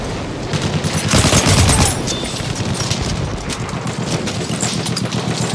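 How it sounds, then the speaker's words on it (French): Battlefield 1 trench combat at Fort de Vaux with bursts of machine gun fire, a dense loud volley in the first two seconds followed by continuous rattling fire and scattered shots, with no voices. "Attention ! Mitrailleuse !"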